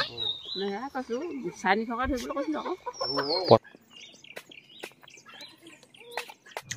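Two chickens cluck loudly and close in a rapid, busy run for about three seconds before it cuts off, leaving quieter scattered clicks and rustles.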